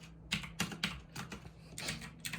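Fingers typing a password on a computer keyboard, a quick irregular series of soft key clicks up close, with short pauses between bursts and no talking.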